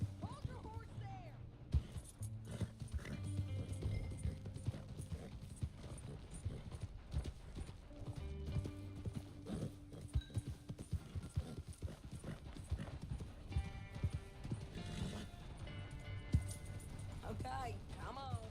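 Horse hooves clip-clop in Red Dead Redemption 2 as a mount moves at a walking pace, with game dialogue and other voices talking over the hoofbeats alongside ambient sounds.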